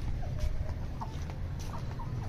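Backyard chickens and a rooster cluck faintly over a steady low hum, with a few soft chirps and calls scattered across the short clip and no talking.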